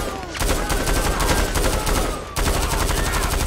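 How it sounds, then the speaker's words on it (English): Rapid gunfire in the LSPDFR police mod for GTA V, a dense, loud stream of shots with a brief lull before a second burst, with a voice faintly in the background. "Okay, shots fired."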